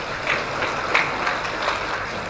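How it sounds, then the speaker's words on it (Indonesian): A gathering with a government water-resources official claps in a moderate, fairly even patter of hand strikes that carries on steadily for a couple of seconds. "Kita tepuk tangan dulu lah,"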